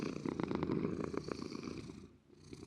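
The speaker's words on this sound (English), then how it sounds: "listen to the kitties meow, or rather purr" Several cats purr in a video game, a steady, dense rumbling with soft pulsing texture that fills the clip closely and loudly, then dips briefly near the end before resuming.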